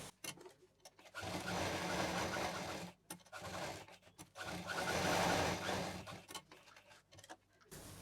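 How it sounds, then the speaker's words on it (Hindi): A sewing machine stitches a cloth shopping bag in two long bursts of rapid, even mechanical chatter separated by a brief pause, close and clear, with quiet handling noises at the start and end. "इसको यहाँ से सिलते हुए जाएंगे, यहाँ डबल मशीन चलाएंगे"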